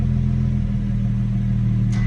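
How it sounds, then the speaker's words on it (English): A BMW M140i Shadow Edition idling after warm-up, settling down from a higher tick over, a steady low engine hum heard up close with no other sounds. "it's just warming up because it's coming down off of the higher tick over"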